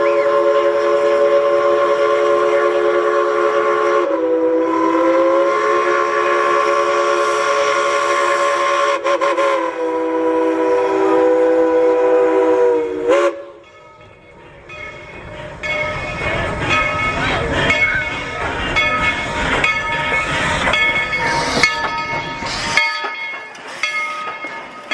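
A loud, sustained multi-tone train horn blares for several seconds, then clattering wheels and rumbling cars of a Tweetsie Railroad train in Boone, North Carolina roll past nearby with squeals and bangs.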